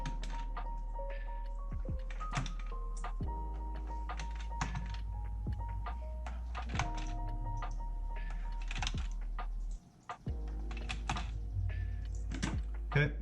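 Plastic gauge pieces are popped off a 2007–2014 Chevy/GMC instrument cluster, giving scattered sharp clicks and snaps close by over a steady low hum.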